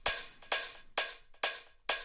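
A house-track hi-hat played without transient processing, five bright, hissy hits in an even pulse with longer, fuller tails, isolated and clear.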